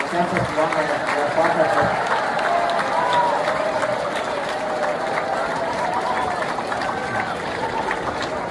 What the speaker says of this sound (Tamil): 2ஆம் ஆண்டு 3ஆம் ஆண்டு மற்ற மாணவ செல்வங்கள் இவங்களுக்கு ஒரு பெரிய கைத்தட்டல் கொடுத்து வரவேற்க பார்க்கலாம்